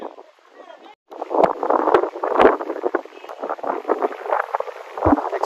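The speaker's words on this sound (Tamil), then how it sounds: "அந்த அளவுக்கு காற்று அடிக்குதுங்க" Strong wind buffeting the microphone at an outdoor cricket ground during a tournament match, a continuous rough roar with gusty surges after a brief quieter start, and a commentator talking throughout.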